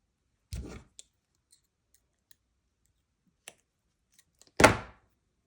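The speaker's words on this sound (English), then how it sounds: "Gonna get that buck stitch trimmed so it's easier to pull through" Leather lace on a buckstitched edge is trimmed with two distinct snips, one soft and one louder near the end, separated by a few faint clicks in a quiet room.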